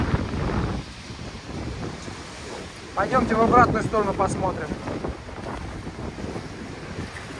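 Stormy Black Sea waves surge and wash against the Lazarevskoye embankment under gusty wind buffeting the microphone, a continuous rough roar with a louder swell midway, while someone talks over it.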